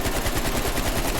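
An AK47 with two attachments in Black Ops Cold War fires a steady full-auto stream, with rapid evenly spaced shots that stay loud and close throughout the short burst.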